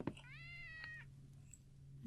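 A cat gives a single clear, drawn-out meow that fades away, heard close over a steady low background hum, with no one talking.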